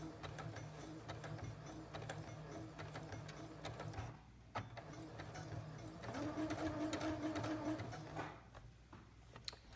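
Household sewing machine back stitching a cloth rag doll, a steady close whirring run with a short pause near the middle before the motor picks up again.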